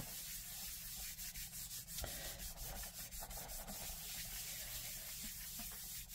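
Rubbing, burnishing pressure applied by hand to transfer small flakes onto a surface, a continuous soft scratchy friction with brief sharp ticks scattered throughout, close and fairly quiet.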